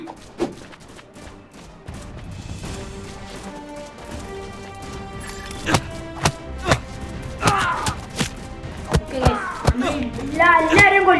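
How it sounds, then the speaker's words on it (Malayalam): Punches in a Spider-Man fighting video game land as a series of sharp thuds and crashes that grow denser toward the end, mixed with game effects and someone talking over them. "ഓ, നമ്മുടെ സ്പാർട്ട്മാന്റെ ഇടി എന്ന് പറഞ്ഞ പക്ക ഇടിയാണ്."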